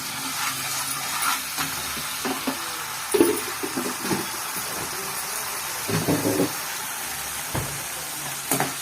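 Ginger garlic paste fries in hot oil with a soft, steady sizzle, broken by occasional stirring scrapes and small pops, close up and fairly quiet.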